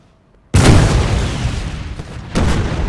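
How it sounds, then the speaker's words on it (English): Artillery cannons fire in a Napoleon Total War multiplayer battle: two loud, booming blasts about two seconds apart, each followed by a rolling rumble, after a brief quiet start. "these French are just getting shot to pieces by the artillery"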